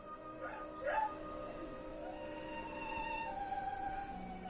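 A dog whimpers and gives a few high yips and howl-like cries, moderately close, over a steady background hum.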